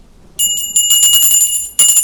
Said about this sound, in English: In a minute, he'll start ringing his bell.